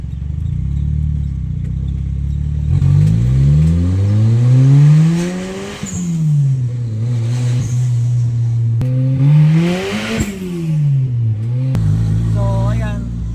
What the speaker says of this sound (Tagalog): Turbo engine, no?